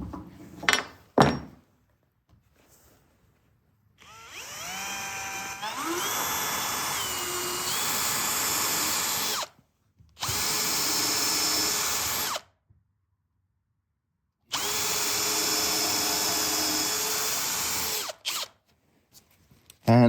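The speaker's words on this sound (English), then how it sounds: "So it's better to pre-drill here a hole," A power drill whirs up in three sustained bursts separated by short pauses, loud and close, pre-drilling a hole in wood, after a few faint clicks at the start.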